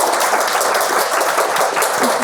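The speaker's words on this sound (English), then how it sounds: "will you give a huge round of applause for our fantastic..." Audience applause at the end of a tabletop role-playing game module design panel, dense, loud crowd clapping that continues without pause.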